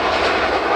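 Airliner jet engines roar at Manchester Airport, a loud, steady broadband rush that fills the short stretch without a break.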